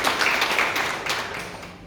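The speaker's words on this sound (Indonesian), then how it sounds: "Mari kita tepuk tangan Tuhan." A church congregation claps their hands together in a dense, steady burst of applause that fills the room, loud and continuous with slight rhythmic tapping, no speech over it.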